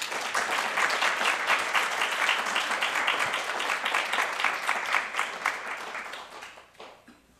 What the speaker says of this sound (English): Another round of applause for CM, Jonathan, and Yona.